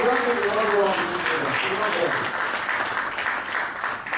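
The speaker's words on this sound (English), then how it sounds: "please give a clap to NIDA and SIBA." Applause from an audience at a stakeholder policy dialogue on a national blockchain policy starts under a voice, then continues as a steady wash of clapping that fades slightly toward the end.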